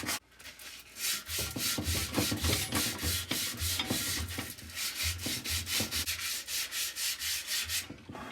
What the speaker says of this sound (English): Putting the sandpaper on the file really seems to get down into the crack good and clean the surface good too